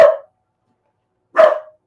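A single dog barks twice, close and loud, with a short sharp bark, more than a second of silence, then a second bark.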